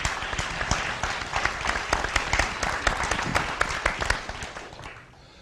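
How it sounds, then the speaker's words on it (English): Audience applause for a panel at a political forum, a steady patter of many hands with sharp individual claps, fading out near the end. "So a round of applause for our panelists"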